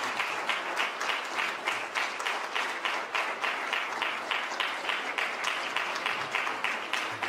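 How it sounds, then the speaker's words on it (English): Hall of Fame ceremony crowd in a hall applauds the 1975 championship team, steady rhythmic clapping of moderate size and loudness continuing for several seconds with no talking over it. "One more round of applause for the 1975 championship team"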